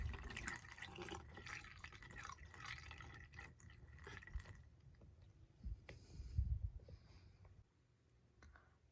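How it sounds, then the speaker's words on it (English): Drain clog remover poured into an HVAC PVC drainage pipe, with faint liquid trickling, drips and gurgling, quiet and close. "So we need to put water or the drain clog removal in both the pipes"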